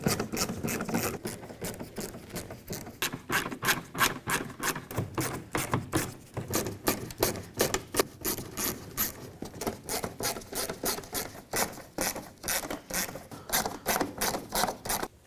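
A screwdriver backing Phillips head screws out of the cowl on a 1997–2003 Ford F-150, giving rapid, regular ratcheting clicks that run continuously at close range with no talk.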